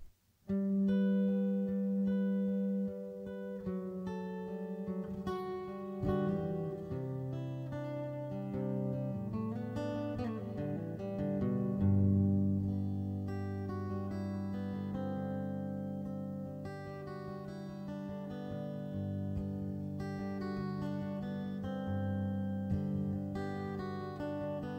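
Yamaha SLG200S silent guitar played with heavy reverb, sustained notes and chords ringing and washing into one another in a long, steady, moderately quiet passage with no talking.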